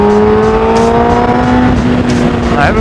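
A motorcycle engine revs steadily up close, its tone climbing slowly and holding loud throughout with no pauses.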